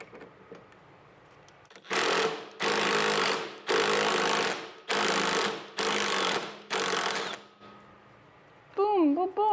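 A power tool spins out red Loctite-locked studs from a BMW E30 hub in six loud, rattling bursts of about a second each, separated by short pauses, followed by a brief higher whine at the end.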